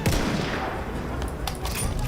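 Gunfire from a weapon in the online shooter Battlefield 1 comes as a short burst of rapid, sharp reports over a noisy game background, with no talk.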